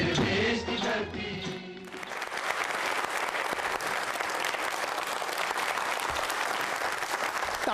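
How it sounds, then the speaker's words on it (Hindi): Loud, sustained applause from an audience at a regional quiz show and prize event, dense clapping rolling on steadily without a break after a song ends. "तालियां जोर से"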